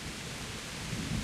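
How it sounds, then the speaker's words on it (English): Heavy rain and rolling thunder in the medieval game Kingdom Come: Deliverance, a dense steady downpour with low rumbles swelling near the end, no voices. "That is some hefty raining."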